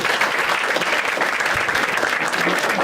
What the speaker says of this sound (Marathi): एकदा टाळ्या वाजायच्यासाठी